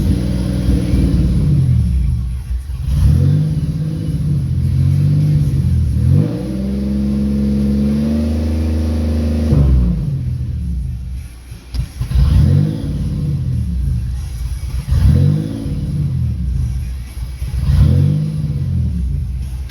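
Turbocharged GTP car engine fitted with a 3 inch downpipe and swapped supercharger pulleys, running rich, revving in repeated rising and falling surges with a hunting idle in between, loud and close.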